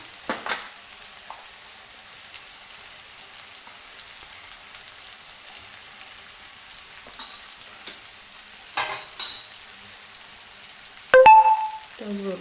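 Bhogi vegetable mix with ground niger seed, peanut powder, coriander and black sesame being stir-fried in a pan: a faint, steady hiss with occasional stirring scrapes and a clanking utensil strike near the end.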